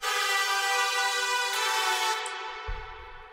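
Layered synth leads for melodic bass music ring out as a bright, harmonically rich sustained chord, dense stacked tones holding steady before fading near the end.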